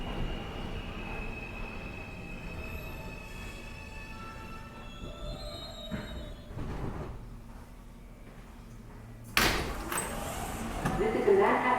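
A Brooklyn-bound NYC subway R160A-2 F train with no air conditioning rides along with a steady low rumble and faint whining tones, then a loud burst of wheel and track noise near the end.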